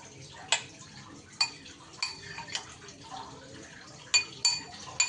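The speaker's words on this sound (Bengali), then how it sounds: "এইবার সব কিছু একটু ভালোভাবে এটা মিশিয়ে নিচ্ছি" A spoon clinks and scrapes against a pan while mixing egg with ground black pepper for a poached egg dish, with a few sharp metallic taps spaced irregularly over a quiet kitchen background.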